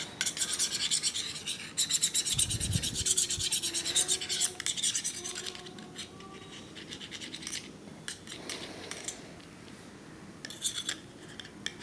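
A screwdriver tip rubs and scrapes across a Nokia C5 phone screen in rapid, gritty back-and-forth strokes, loud and close for several seconds, then lighter, sparser scratching with no one speaking.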